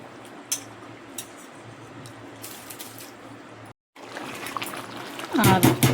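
Soaked rice pours into a chicken biryani pot in a home kitchen: quiet wet trickling and squishing, a brief gap, then a louder splashing pour at the end.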